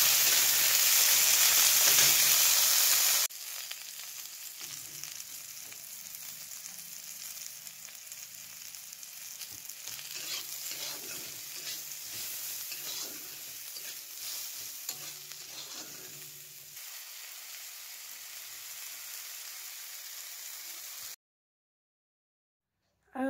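Chopped onions and two green chillies fry in hot oil in a pan. A steady close sizzle runs for about twenty seconds with occasional stirring scrapes, then cuts off abruptly.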